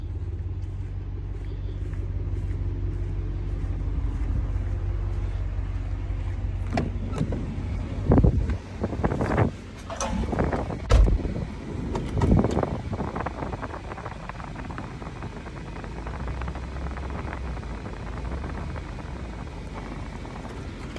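A roll-off truck idles and creeps forward as a dumpster slides off its bed, with a low engine rumble throughout and a cluster of scraping clunks and bangs midway before the idle settles again.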